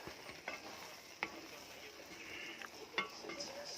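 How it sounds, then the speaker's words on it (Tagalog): Cauliflower rice sautéing with ground meat in a pan, a faint steady sizzle with occasional soft utensil clinks and scrapes as it is stirred. "Ginisa ko sa giniling."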